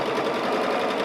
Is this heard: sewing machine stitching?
yes